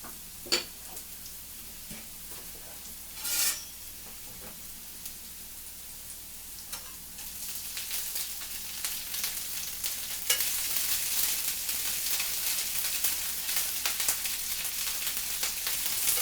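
Garlic cooking in a pan on a hot stove for a squirrel dish, giving a soft, steady sizzle that swells louder partway through, with a few faint clicks and scrapes and no talking.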